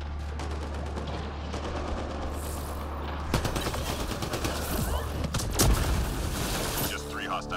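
Gunfire in the shooter game Apex: a dense, continuous volley of shots with sharp bursts and booms over a steady loud background.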